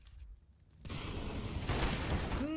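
Rapid gunfire bursts from a competitive Counter-Strike: Global Offensive match, dense crackling shots filling the second half, following a quieter opening moment.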